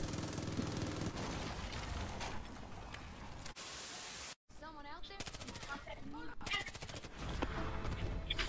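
Bursts of MG42 machine-gun fire in Far Cry 5 rattle through a noisy, static-laden game mix, cut by a brief dropout partway through, with some other game sounds mixed in.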